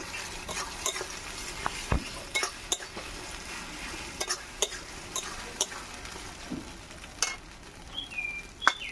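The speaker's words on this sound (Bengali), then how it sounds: "তার জিরে সর্ষে আর আদা রসুন বাটাটাও দিয়ে দেবো, একটু নাড়াচাড়া করে নেব" Cumin, mustard seeds and ginger-garlic paste fry in oil with chopped tomato and salt, giving a soft continuous sizzle broken by scattered ticks and scrapes as a utensil stirs the pan at close range.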